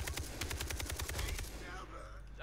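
Rapid automatic gunfire in the video game Far Cry 3, a fast string of close shots for over a second that then stops, leaving a fading tail.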